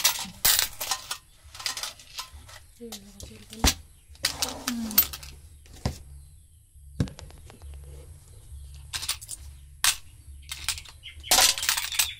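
Coins are handled and sorted at a small shop counter, with sharp metallic clinks and rattling bursts scattered irregularly across twelve seconds, close by, amid brief talk and background murmur.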